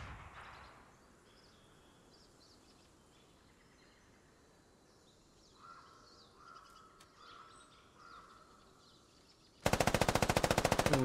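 A loud, rapid burst of automatic gunfire erupts from a military video game after a long quiet stretch of faint ambience with distant chirps and soft tones.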